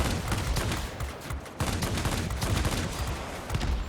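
Ta 183 jet fighter's guns firing in World of Warplanes, a dense, continuous rattling fusillade of rapid shots, loud and sustained throughout with only a momentary dip partway.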